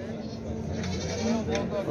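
Goats bleat in wavering calls under ongoing talk, set against a steady background hum.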